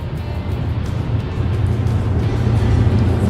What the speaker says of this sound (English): We're currently in traffic